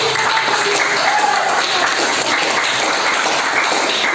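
A classroom of students applauds in a school lesson, dense steady clapping filling the room, loud and close throughout, with faint voices beneath.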